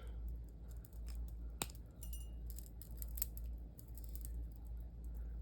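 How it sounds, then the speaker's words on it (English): Small metal snips cut earring wires while dangle earrings are being made. There are a few crisp clicks, one sharp snip standing out, over a low steady background hum. No talking. "going to trim the wires"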